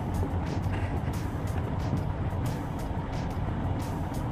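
Traffic on a California freeway: a continuous dense roar of cars and trucks rushing past, with faint passing swells layered over a steady low rumble.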